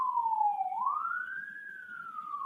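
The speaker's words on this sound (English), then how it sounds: "Sirens." A single police-type siren wails alone, its pitch dipping then sweeping up and slowly falling in a steady, fairly close tone, with a brief sharp noise at the very end.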